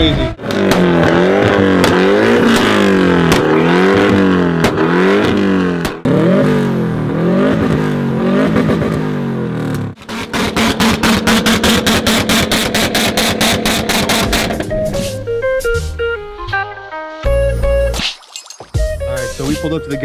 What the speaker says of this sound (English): These guys are still doing a two-step battle.